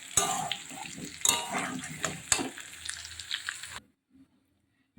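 Potatoes sizzle in a pan of oil while a utensil clinks and scrapes against the metal in a few sharp knocks, then the sound cuts off after nearly four seconds.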